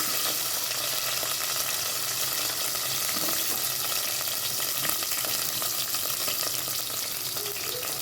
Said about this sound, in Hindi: ये हो चुका है हमारा ऑयल गरम। हम सबसे पहले इसके अंदर हम डालेंगे अनियन जो हमने कट करके रखा हुआ है।